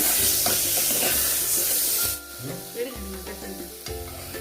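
Sheep intestines being stir-fried in a pan for a Chinese-style dish, a loud bright sizzle with scraping stirs that suddenly drops to a quieter bubbling simmer with occasional clinks partway through.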